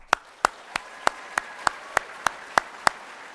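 Audience applause for eighth graders at a middle school promotion night, heard as about ten sharp, evenly spaced claps in a slow, steady rhythm, fairly faint with no talking.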